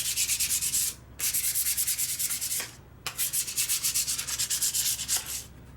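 A Ford truck clutch pedal part is roughed up with abrasive in quick, rhythmic back-and-forth scrubbing strokes, loud and close, pausing briefly twice before resuming, with no talking.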